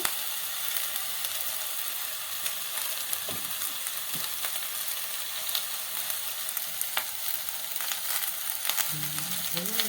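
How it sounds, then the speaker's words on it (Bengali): Spices with turmeric sizzle and fry steadily in a pan for a bitter gourd curry, with occasional stirring scrapes throughout and no talking. "একটু ভালো করে কষিয়ে নেব। হলুদ দিচ্ছি"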